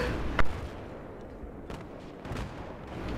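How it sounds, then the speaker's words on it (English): Gunfire and an explosion in a first-person shooter: one sharp loud blast near the start, then a rumbling, muffled backdrop of scattered distant shots and thuds. "Oh god, there's a grenade right there."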